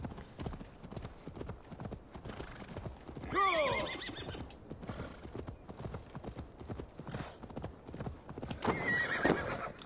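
Horse hooves clip-clopping at a steady gallop in the video game Assassin's Creed Valhalla, with a loud whinny breaking in midway and another neigh near the end.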